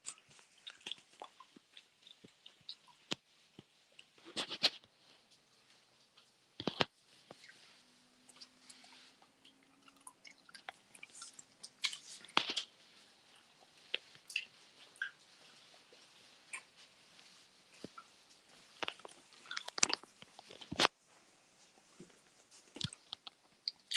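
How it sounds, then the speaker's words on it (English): Gum chewed close to a microphone gives scattered soft wet clicks and smacks in irregular bursts over a quiet background, with no speech. "Well, I'm actually chewing gum."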